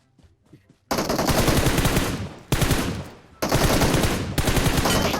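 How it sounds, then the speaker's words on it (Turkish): Rapid automatic gunfire from a battle royale shooter game rattles loudly in sustained bursts, with a short gap and a brief dip between volleys and no voices. "çocuk sürekli bir tepeden bana sıkıyor ya"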